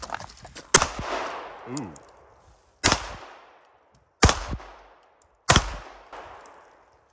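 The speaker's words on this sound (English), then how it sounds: "first mag on the Smith & Wesson Equalizer" Four loud, sharply separated pistol shots from a Smith & Wesson Equalizer on a firing range, each with a ringing echo tail, and a brief voice exclaiming between them.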